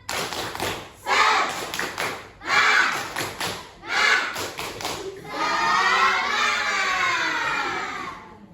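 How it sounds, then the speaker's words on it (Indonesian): Children in an Indonesian school classroom perform a rhythmic spirit clapping chant, bursts of clapping and chanting voices in several short phrases, ending with a longer sustained shouted stretch. "Tepuk semangat."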